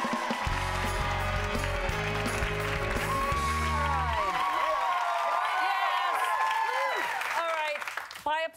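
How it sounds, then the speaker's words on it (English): A studio audience on a daytime talk show breaks into applause and cheering, a dense burst of clapping that carries over a host's voice and fades toward the end amid music. "Applause, please."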